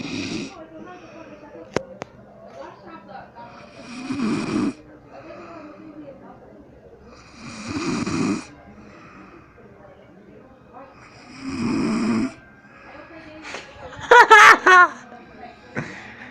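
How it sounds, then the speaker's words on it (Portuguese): A man asleep on a sofa snores in slow, regular bursts roughly every four seconds, each a low rasping inhale, with quiet room tone between and a brief higher-pitched sound near the end. "escuta o ronco do cara."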